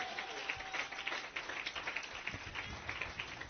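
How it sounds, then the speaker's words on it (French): A church congregation applauds in a continuous, faint, distant patter of many hands that stays steady throughout. "Donnez une main d'acclamation au Seigneur"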